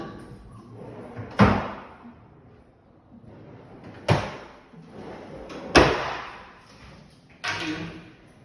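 A wooden cabinet drawer slides open and shuts four times at a steady pace, each closing landing as a sharp knock, with quiet room noise between.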